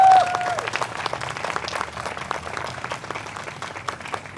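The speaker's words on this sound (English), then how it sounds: "Let's give Suzanne a round of applause." Audience applause at a press conference, loud and dense clapping from a crowd filling the whole stretch and holding steady throughout.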